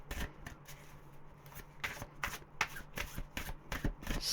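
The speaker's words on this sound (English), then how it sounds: "same again, 3 shuffles" A deck of tarot cards is shuffled by hand in a quiet room, a series of crisp riffling bursts and soft slaps coming in irregular clusters, close and fairly quiet, with no talking.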